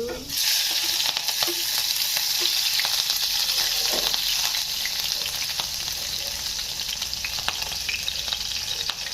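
Green chillies fry in a hot pan, a steady loud sizzle with occasional crackles and pops that keeps going throughout, close up and without speech.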